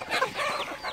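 A chick and hens on a rural farm cluck and peep in short, close bursts, a busy cluster of bird calls lasting under a second.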